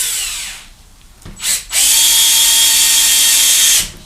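A power drill drives 2.5-inch deck screws into a wooden woodworking bench, a short whirring burst followed by a longer, loud, steady high-pitched run, close up and with no talking.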